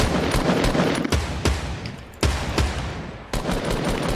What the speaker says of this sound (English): Shoot him down.